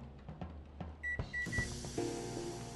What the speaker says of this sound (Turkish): Makine çalıştı. Kahve makinesi.